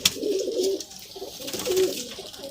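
Domestic pigeons in a fancier's loft in Lahore coo steadily, low throaty burbling calls repeating in overlapping waves, close and moderately loud with faint background noise and no talk.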